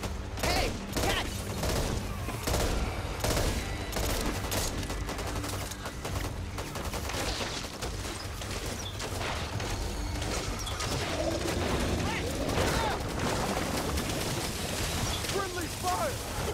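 Gunfire in the Back 4 Blood video game, a dense, continuous burst of rapid shots and clatter that runs throughout at steady loudness, with voices talking over it.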